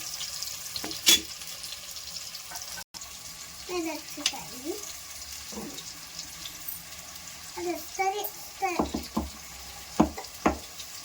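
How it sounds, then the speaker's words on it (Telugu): Quail and onions sizzle and fry in a pan while being browned, a steady low crackle punctuated by stirring clinks and brief scraping bursts. "ఇందులో కొంచెం ఇవి బ్రౌనిష్ కలర్ వచ్చే వరకు వేగించుకొని"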